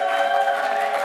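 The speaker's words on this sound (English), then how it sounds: "Go ahead, make some noise. Come on, cheer them on" Live audience cheering and whooping at a business pitch competition, a steady broadband crowd roar sustained without a break and fairly loud throughout.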